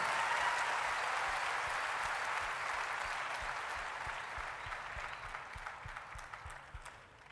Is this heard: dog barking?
no